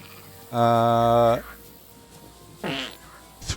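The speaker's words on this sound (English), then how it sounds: "Okay, now Henry's got the beer fart." A long, loud brassy fart from the character Henry in the video game Kingdom Come Deliverance 2, held steady for about a second, followed later by a shorter sputtering burst.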